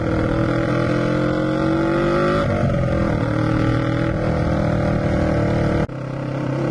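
A café racer motorcycle on a short ride sends out a steady engine drone with gear shifts and small changes in revs, plus wind rush, loud and close and continuous, with a brief dip near the end.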